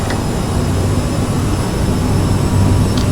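Jet engines of a CRJ700 in a flight simulator spool up for takeoff, a loud, dense and steady roar with a low rumble underneath.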